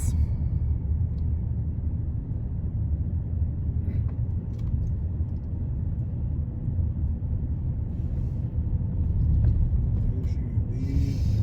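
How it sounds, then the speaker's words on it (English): Trucks drive past at Dreher Island State Park by a lake, making a steady, continuous low rumble of road traffic that holds level for the whole stretch, with no clear break between vehicles. "Check out all those trucks."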